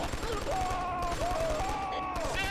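Rapid gunfire in the first-person shooter Killzone 2, dense and continuous under a tonal game soundscape with rising and falling electronic whines, staying loud throughout.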